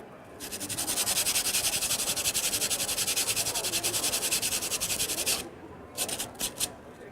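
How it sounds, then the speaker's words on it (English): Sandpaper scrapes rapidly back and forth over wood in a steady rhythmic rasp, close and fairly quiet, then trails off into a few short strokes. "I'm going to give a little bit of a sand to this wood"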